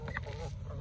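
Yard ducks give a brief, faint honking call, a quick nasal burst or two lasting under a second.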